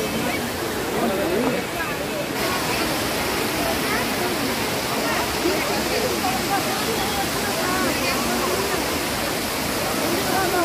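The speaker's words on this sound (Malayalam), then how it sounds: "നല്ല ഭംഗിയുള്ളൊരു വെള്ളച്ചാട്ടത്തിൻ്റെ സ്ഥലമാണ് ഇവിടെ" A scenic waterfall cascading down, making a loud, steady rushing roar that fills the whole stretch without a break.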